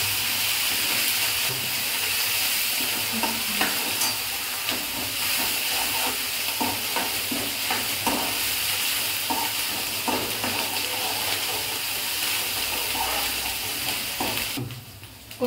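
Onion and garlic paste sizzles in a pan for chicken curry, a continuous frying hiss broken by repeated scraping stirs, close and steady until a brief drop near the end.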